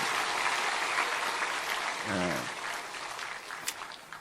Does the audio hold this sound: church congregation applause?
yes